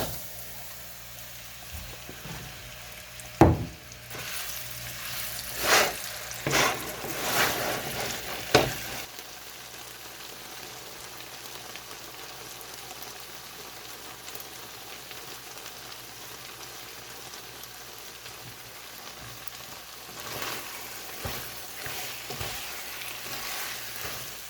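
Flour-coated beef tips browning in a hot pan, with soft sizzling and a few louder stirring scrapes early on, then a steady quieter frying hiss continuing alone to the end.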